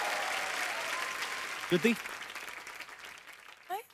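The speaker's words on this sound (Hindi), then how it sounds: "जोरदार तालियां राजकुमार और श्रुति के लिए" Studio audience applause welcoming Rajkummar Rao and Shruti Haasan on a comedy talk show, a broad clapping wash that gradually fades, with a few voice bursts over it.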